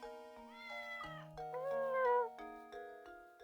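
A cat meows several times in a row in the Professor Layton video game, clear, close and tonal, with a brief chime and no talk.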